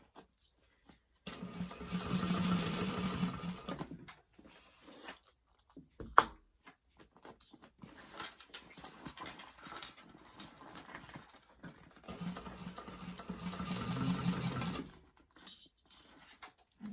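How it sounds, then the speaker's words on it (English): Sewing machine stitching an open seam on a convertible backpack, two clear runs of steady mechanical whirring separated by quieter handling, clicks and a sharp tap, fairly close with no talking. "Your seam is open, so you can sew that open."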